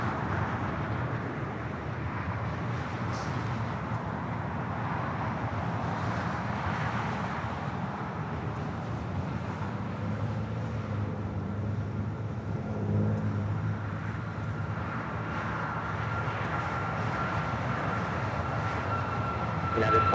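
A Southwest Airlines Boeing 737 MAX 8 rolls down the runway for takeoff at LAX, a steady, broad jet roar that holds loud and even for the whole stretch.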